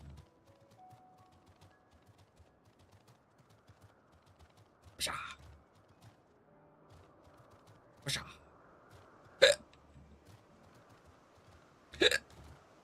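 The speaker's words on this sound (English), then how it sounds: "I got hiccups" Four sharp hiccups break into near-silence, spread several seconds apart and each loud and close, while a soft game soundtrack plays faintly underneath.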